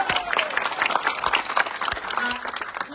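An audience at a match prize ceremony in Chunarughat breaks into applause, a dense scattering of many hands clapping continuously for a few seconds at moderate distance.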